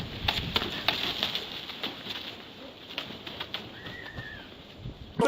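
Pigeons lift off from a loft, wings flapping in a flurry of soft beats, with a brief coo, heard at moderate distance over quiet outdoor background.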